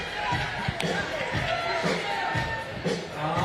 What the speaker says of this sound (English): The crowd lets them hear it.